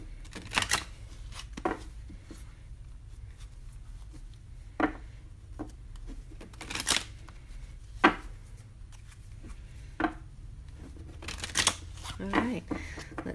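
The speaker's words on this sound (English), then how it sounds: "Give them a good shuffle." Enchanted Embrace oracle cards are shuffled by hand in scattered bursts of crisp riffling and slapping, close and fairly loud, separated by quiet pauses over a faint low hum.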